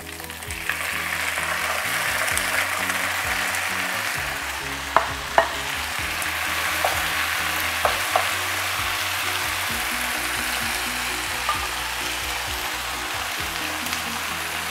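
Minced meat and okra fry in a pan with a steady, close sizzle and crackle throughout, while a few faint clinks of a spoon stirring against the pan break through now and then.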